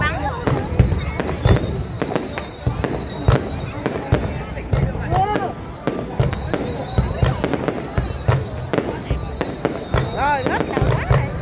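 Fireworks burst throughout a festival opening in Bạc Liêu, Vietnam, with dense, rapid crackling and booming explosions that overlap steadily over crowd voices and talk.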